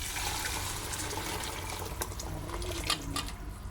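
Chicken stock pours steadily into a pot for a chicken biryani, a soft continuous liquid stream with a few faint splashes, close and fairly quiet with no talk.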